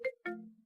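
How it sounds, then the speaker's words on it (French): A mobile phone ringtone sounds indoors, two short melodic electronic tones in quick succession, the second longer and fading, fairly quiet with no talk. "Ton téléphone sonne."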